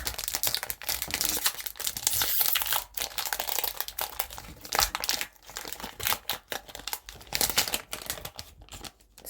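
Crinkly plastic wrapper of a My Little Pony trading card pack being pulled and torn open, a busy run of sharp crackles and rustles, close and loud, with short quiet gaps.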